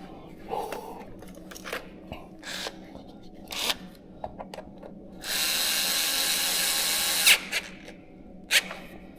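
Short bursts of a power tool and tool clicks fasten the starter on a BMW R1100GS motorcycle, with a longer whirring run midway among intermittent clinks and handling noises.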